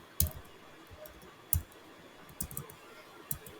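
Someone types code on a computer keyboard, producing a handful of sparse, crisp key clicks at irregular intervals. The clicks are close and isolated, with quiet gaps over faint background hiss.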